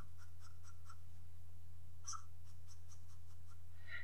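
A pen sketching tails onto a t-distribution drawing, with faint, short scratchy strokes in small bursts over a steady low electrical hum.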